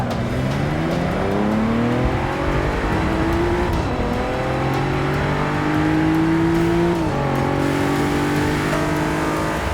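A race car engine in the Forza 6 Apex video game drones loudly and continuously, its pitch rising through the gears with brief dips at shifts, while the car struggles for traction on the track.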